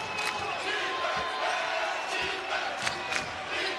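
Basketball arena crowd at an SMU versus California college game, a loud continuous roar of voices with scattered shouts and thumps, under a commentator talking.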